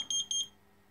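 An electronic alarm buzzer on an OLED cube clock gives two quick high-pitched beeps in a row, then falls silent.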